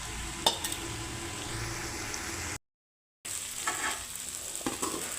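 Cauliflower and egg are stirred together in a hot frying pan, giving a steady sizzle with close spatula scrapes, broken by a short silent gap midway; no one speaks.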